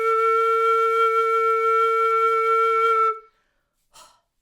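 A full, warm tone blown on a flute headjoint alone holds steady and bright for about three seconds, rich in overtones, then cuts off, followed by a short soft breath.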